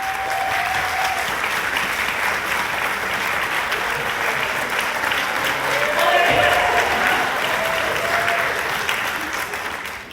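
A convocation audience gives steady, sustained applause for a student government board standing to wave, a dense wash of many hands clapping continuously, swelling slightly toward the end.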